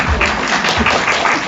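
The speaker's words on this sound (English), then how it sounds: "Round of applause." A round of applause from an audience at a goal-setting talk, a short burst of dense, even clapping with no voices over it.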